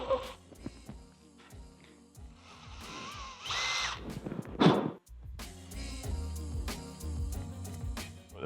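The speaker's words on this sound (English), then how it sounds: "So you want to drill your grub screw hole to the depth of your grub screw, which is 6mm" A power drill bores a grub screw hole into the end of a motorcycle handlebar, with intermittent whirring bursts and clicks and some louder grinding, fairly close and quiet.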